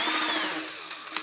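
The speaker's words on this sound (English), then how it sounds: "Runs off a little cordless drill." A homemade paint shaker driven by a small cordless drill whirs steadily at high speed, close and loud, easing slightly toward the end with a few light knocks.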